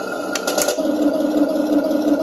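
A selectable sound effect plays from a 1/16-scale Heng Long Type 99 RC battle tank toy, a buzzing mechanical whir with a few brief clicks at the start, then a steady humming drone.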